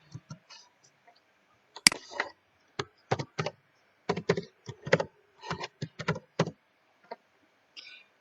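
Computer keyboard typing while entering adjusting journal entries: irregular bursts of close, crisp key clicks with short pauses between groups, no talk.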